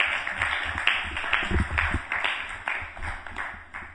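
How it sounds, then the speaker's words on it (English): An audience claps for the speaker at a devotional scripture class, a brief round of moderate applause with scattered individual claps rising and fading over a few seconds. "Round of applause for Prabhuji."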